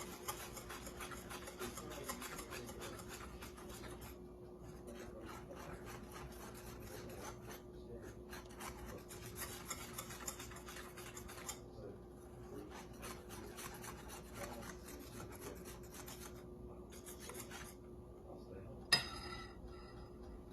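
Soft, steady scraping and rubbing of a utensil stirring banana pancake batter, with mashed banana in it, in a bowl, quiet and continuous with a faint clink near the end.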